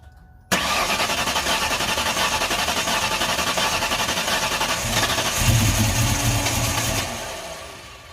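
A 1999 Mustang GT with a 5.0L stroker engine fires up after a brief quiet moment, then settles into a loud, steady rumble that swells again near the end before easing off.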